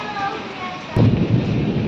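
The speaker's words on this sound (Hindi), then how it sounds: "बिजली की आवाज़ के बाद सारा कुछ शांत हो गया है।" A sudden loud thunderclap during a dust storm with heavy rain and strong wind, a burst of low rumbling crack breaking in after steady rain hiss and continuing as rolling noise.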